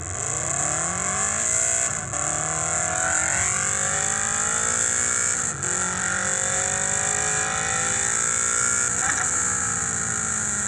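Simulated Subaru WRX STI engine from a phone app revs up steadily through successive gears, each pitch climb broken by brief shift dips, loud and continuous with no talk.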